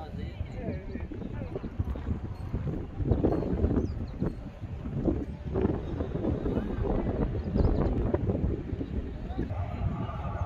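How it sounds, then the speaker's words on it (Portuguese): Strong gusting wind buffets the microphone at a high lookout point over the city of Caruaru, rumbling in uneven bursts throughout while someone talks. "tá ventando muito, não sei se você tá vendo minha voz direito."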